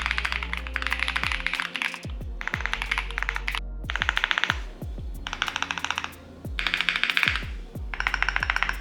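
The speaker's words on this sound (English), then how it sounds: "Here's how my board sounds on quartz with no Deskmat." Mechanical keyboard typed on a bare quartz desk with no deskmat, giving sharp, bright clacks in rapid bursts separated by short pauses, close and clear with no voices.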